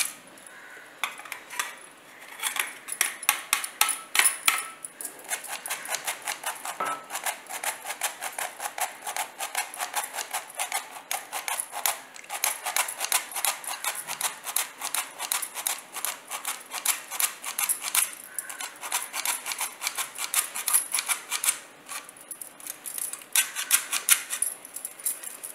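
Flour being sifted through a metal sieve for a seven-cup cake, a continuous fast rattling and tapping that runs the whole time at moderate volume.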